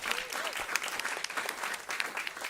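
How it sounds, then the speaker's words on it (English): A short, steady round of applause from a crowd honoring the hosts at WNYC during a breakfast event, dense clapping holding even across the whole stretch with faint voices underneath. "Give them a round of applause."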